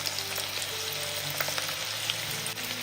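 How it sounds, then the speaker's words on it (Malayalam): Ragi snack mix frying in hot oil as a steady, dense sizzle with faint crackles and pops, heard close with no voices. "ഇനി ചൂടായി കിടക്കുന്ന എണ്ണയിലേക്ക് നമ്മൾ കയ്യിൽ കുറച്ച് ഈ മിക്സ് എടുക്കുക."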